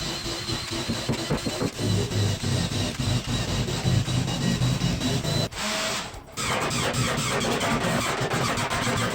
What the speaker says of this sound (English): I then use my random orbit sander to remove any tear out and flush up the edges